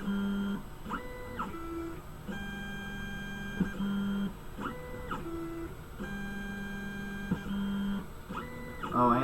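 A 3D printer works alone, its stepper motors whining in shifting tonal steps and short beeping bursts as the nozzle moves up and down and across, with a steady mechanical hum throughout.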